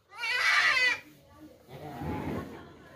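A dairy goat nursing its kids lets out one loud, close, wavering bleat lasting about a second, followed by someone speaking over quieter barnyard murmur.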